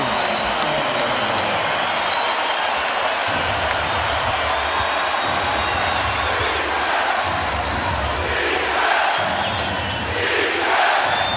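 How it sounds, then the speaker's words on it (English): A capacity arena crowd at Staples Center chanting defense during an NBA playoff basketball game, a loud, dense roar of voices that continues without a break, with an announcer's voice faintly mixed in. "A chant of defense by this capacity crowd at Staples"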